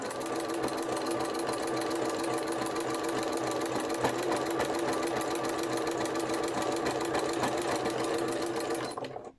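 Sewing machine fitted with a jeans needle runs a zigzag stitch over lace edging on a quilt-as-you-go needle case, a fast steady mechanical chatter close by that runs without a break, then stops abruptly at the end.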